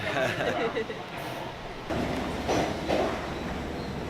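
Rumbling rail noise from a New York train carriage bound for Penn Station, with people talking and a brief muffled announcement-like voice over the steady hum.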